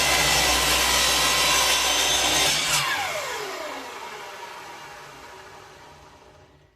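A wooden comb blank is being sawn, with a brisk continuous rasping cut for a few seconds before the blade stops and the sound trails away into quiet.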